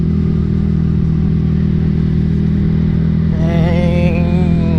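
Blue Yamaha R15 motorcycle engine running steadily while riding, a loud close drone that rises into a revving, wavering pitch near the end, with no talk.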